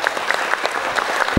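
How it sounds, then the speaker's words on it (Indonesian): A crowd at a school Quran recitation event gives loud, dense applause for the children, many hands clapping at once in a brief continuous burst. "Ya, tepuk tangan untuk anak-anak kita semua."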